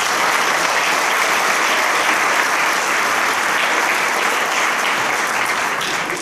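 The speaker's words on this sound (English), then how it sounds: "let's give a round of applause to our students" Loud, dense audience applause for students after a middle school choir concert, a steady roar of many hands clapping that holds evenly throughout.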